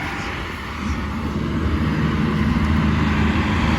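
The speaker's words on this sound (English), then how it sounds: "This disc line works really well." Tractor pulling a disc line through a hay field, its engine a steady, close droning rumble that swells slightly toward the end, with no voices.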